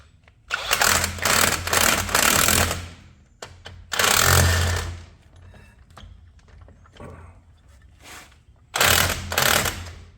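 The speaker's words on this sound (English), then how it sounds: "Now my rotor's still loose. That's what you hear clacking." Loose brake rotor on a 1984 solid-axle Toyota pickup clacking during a front brake job, loud irregular bursts of metallic rattling and mechanical noise separated by quieter gaps, close by.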